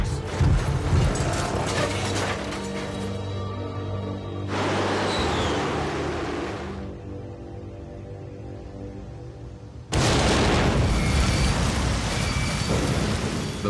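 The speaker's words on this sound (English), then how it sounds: "first bomb destroys the computer room, killing seven." Heavy bomb blasts and rumbling impacts strike a warship during the Falklands War, long loud roaring bursts with a sharp, powerful onset near the end, no speech.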